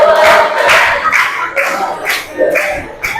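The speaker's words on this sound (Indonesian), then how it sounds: "Ya, beri tepuk tangan untuk Kresna." A group claps for Kresna in a small gathering, a loud burst of applause with some voices and shouts mixed in, close by.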